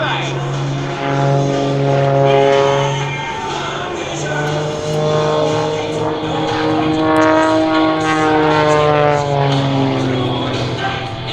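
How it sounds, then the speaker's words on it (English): Pitts biplane (Wolf Pitts Pro) flying aerobatics at the EAA AirVenture Oshkosh airshow, its propeller engine droning steadily with pitch shifts as it climbs and spins, heard under continuous announcer commentary. "How good does the Biplane Pro look in the sky here in the US of A?"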